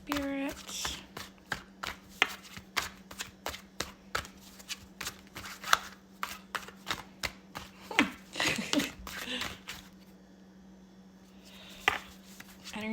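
Tarot cards shuffled by hand in a long series of crisp, close riffling snaps at a quick, uneven rhythm over a low steady hum, with a brief stretch of talking partway through.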